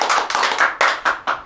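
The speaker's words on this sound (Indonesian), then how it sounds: "Wait, tepuk tangan dulu." A few people clapping close by in a small room, about six crisp, separate claps or short bursts in an uneven rhythm, with no talking over them.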